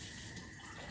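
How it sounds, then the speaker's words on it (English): Water pours steadily into a rice cooker bowl holding rinsed rice, a continuous close, loud splashing fill with no talk. "I'm going to put 2 cups of water in with the rice"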